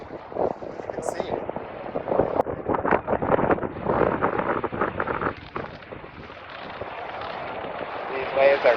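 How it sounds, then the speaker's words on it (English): Wind-whipped ocean waves break on a Miami beach under red-flag conditions, a rough continuous surge with buffeting wind noise on the microphone, while a voice talks over much of it. "these waves are crashing."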